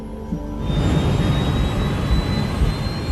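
Jet airliner engines roar during the takeoff roll, a loud steady broadband rush with a rising whine that swells within the first second and holds.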